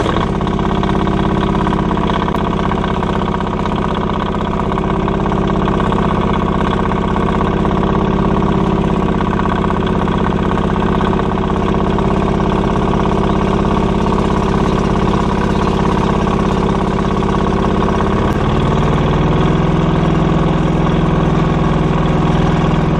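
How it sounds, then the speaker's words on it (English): A Countax D1850 diesel lawn tractor engine runs close and loud at a steady idle, with a constant low drone and a slight shift in pitch near the end and no talking throughout. "all I have to do now is start the engine up"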